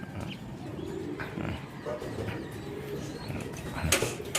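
Racing pigeons coo softly and steadily in a loft, several birds overlapping in low murmuring calls with a louder burst near the end, no voices over them.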